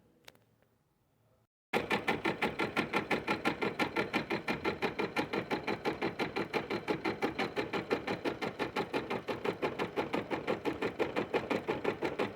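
An embroidery machine stitching a satin stitch starts after a quiet moment, then runs with a fast, even, mechanical rhythm of needle strokes, loud and close, continuing steadily.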